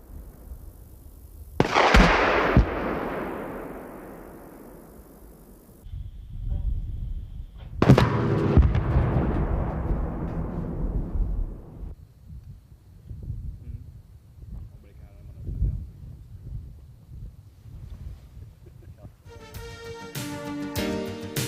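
Bofors 40mm 3P all-target rounds firing and bursting on impact, two loud booming blasts with long decaying rumble, followed by fainter scattered reports and a rapid clattering burst at the end.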